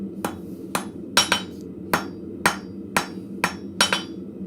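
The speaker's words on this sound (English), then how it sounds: "doing light blows with a heavy hammer" Blacksmith's 2-pound hammer striking at a forge, about nine sharp metallic blows at a steady rhythm, close and clear, each ringing briefly over a low background hum.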